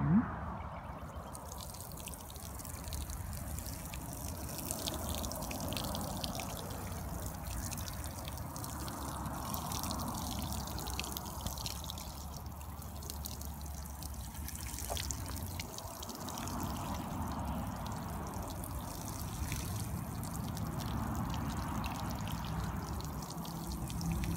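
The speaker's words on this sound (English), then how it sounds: "fill up and water again" Water pours and trickles steadily onto soil where spinach seeds were freshly planted in a greenhouse, a continuous close splashing stream lasting throughout with no speech.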